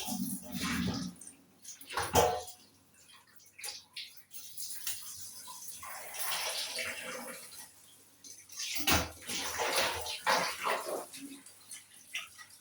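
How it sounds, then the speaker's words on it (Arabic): Local beef is rinsed under running water in a home kitchen, with intermittent gushing and splashing bursts separated by quieter pauses, close and moderately loud. "انا بقى طبعا هنغسل اللحمه بتاعتنا"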